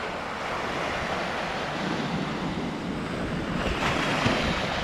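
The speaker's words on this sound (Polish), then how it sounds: "Tak w ogóle to spójrzcie jakie bestia fale zrobiła" Ocean waves surging and breaking onto a beach in a continuous loud wash of surf, with wind buffeting the microphone and no talking.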